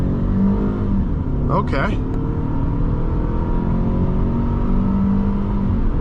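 From inside the cabin, a 2010 Toyota Camry LE with a 2.5-liter engine accelerates hard from a full stop, its engine a steady, loud drone, with a brief spoken word near the start.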